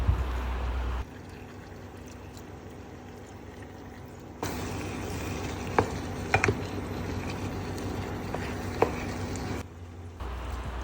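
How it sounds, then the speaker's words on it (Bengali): Boiled pasta water is poured into a pan of pasta and spices, giving a steady pouring and splashing wash with a few small clinks and knocks, close by with no talking. "আবার সেই সিদ্ধ পাস্তার পানিটা দিতে হবে"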